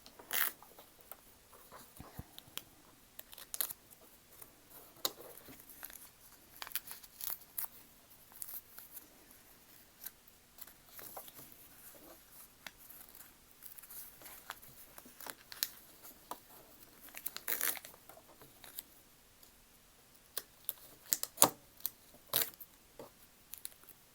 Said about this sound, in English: What we're going to do is remove the paper.